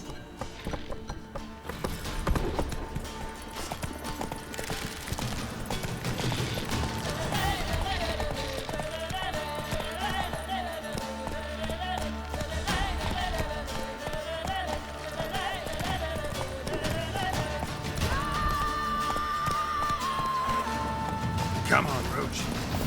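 Geralt's horse Roach gallops in The Witcher 3, with steady rhythmic hoofbeats and clattering tack running throughout over a soft game soundscape and music.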